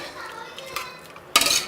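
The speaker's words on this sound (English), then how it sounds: "Give it a stir, check for salt" A spoon stirs a pot of food after hot water is added, before pressure cooking, giving a few light metallic scrapes and clinks, then a louder clattering burst near the end.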